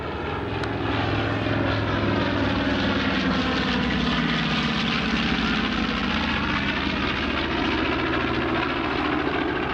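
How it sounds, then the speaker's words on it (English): A B-25 bomber flies at the Southport Air Show, its piston engines and propellers giving a loud, continuous droning roar that stays steady throughout as it passes overhead. "please welcome the B-25 Little Bomber"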